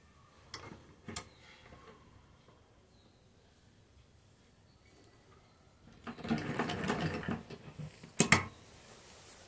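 A sewing machine stitches along the folded edge of palazzo fabric: faint ticking and handling at first, then a brief burst of rapid, rattling stitching followed by a short louder run near the end.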